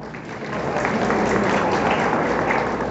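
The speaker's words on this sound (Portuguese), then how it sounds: "com a salva de palmas." Steady applause from a seated audience at an official ceremony marking the anniversary of a water agency and a new headquarters in Brazil, a dense continuous round of clapping without voices.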